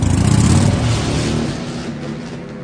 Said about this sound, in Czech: vyhoupl se na motorku a našlápl ji. Stroj se vznesl s hlasitým řevem do vzduchu a zmizel ve tmě.